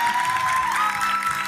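Audience applause for the backing musicians at a RUNSTAR 2013 televised singing contest on Reunion Island, a steady wash of clapping with a sustained musical tone running underneath.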